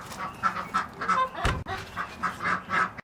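A large laying hen that has just laid an egg calls in a rhythmic series of repeated clucking cackles, close and fairly loud, with a brief thump partway through.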